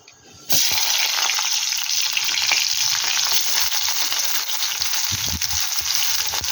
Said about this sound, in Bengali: আর এই তেলে আমি পেঁয়াজ দিয়ে দেবো